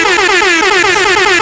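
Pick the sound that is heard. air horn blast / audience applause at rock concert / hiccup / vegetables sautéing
air horn blast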